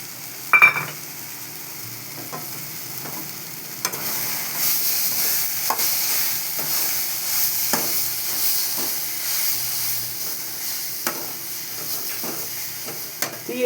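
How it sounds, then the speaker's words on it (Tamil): Ingredients sautéing in a pan for a lentil dumpling curry, a soft hissing sizzle punctuated by scattered spatula taps and scrapes, close and quiet, with no voices. "நல்லா வதக்கணும்."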